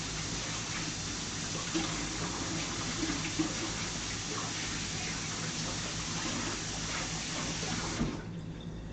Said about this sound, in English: Rinse the hands again.